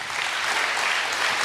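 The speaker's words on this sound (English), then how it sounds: "Big applause. Big applause." A room of listeners at a startup pitch competition claps steadily for an arriving presenter, a brief, loud, even burst of applause with no voices.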